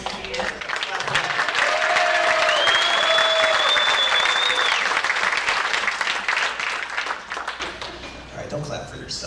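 A gala crowd at an autumn fundraiser breaks into loud, sustained applause with some whoops and cheers over it, swelling and then fading toward the end.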